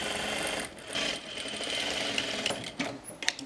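Sewing machine stitching the side seams of a gown made from fabric scraps, a steady close mechanical whir that runs continuously, then breaks into a few short stops and restarts near the end.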